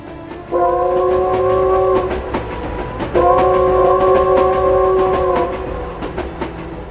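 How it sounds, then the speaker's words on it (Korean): A train horn blares twice in long sustained blasts while wheels clatter rhythmically along the tracks, steady and close throughout. "곧 덜컹거리며 기차가 출발하자 기원은 눈을 감았다."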